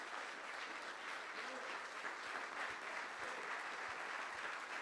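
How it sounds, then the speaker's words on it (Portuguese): A church congregation claps together at a service, producing a dense, steady wash of applause that carries on throughout under a faint voice. "Eu queria que você desse uma salva de palmas a Jesus,"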